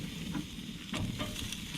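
Burgers sizzle over open wood flames on a grill with the gas turned off, a steady close crackle with brief bursts as the patties are flipped.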